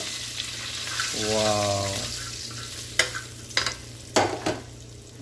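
Curry leaves sizzle in hot oil while frying for home-made sambar, a bright hiss swelling for about a second, followed by a few sharp clinks of utensils. A single brief exclamation comes over it.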